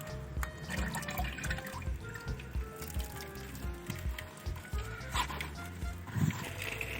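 Dried prawns are rinsed by hand in a bowl of water, giving soft sloshing, dripping and splashing with irregular bursts, close up and moderately loud.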